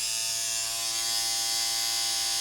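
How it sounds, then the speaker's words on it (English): Electric lint shaver motor running at close range, a loud, steady high-pitched whirring buzz that holds evenly for the whole stretch, alone with no voices. "Listen to this motor and try to explain to me why your lint shaver is better than mine."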